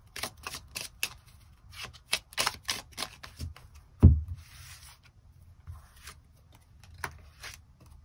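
Tarot cards flick and slap in a quick irregular series of crisp snaps during a weekly reading, followed by one heavier thump as a card is set down, then softer scattered taps.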